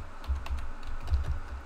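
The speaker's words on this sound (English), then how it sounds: "So you type in beach" Close typing on a computer keyboard while entering shop product values, a quick irregular patter of soft key clicks and thumps with no voice over it.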